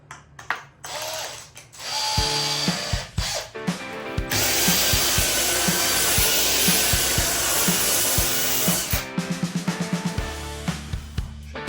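A power drill whirs with a rotating brush, scrubbing a mouldy, sagging car headliner in a Volkswagen Vento steadily for several seconds, with clicking ratchet-like starts and stops at either end.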